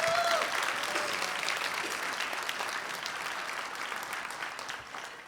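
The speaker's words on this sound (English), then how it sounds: "So a round of applause again for all of our supporters" Audience applause at a scholarship awards celebration honoring supporters, a dense, steady wash of clapping that carries on for several seconds and gradually fades toward the end.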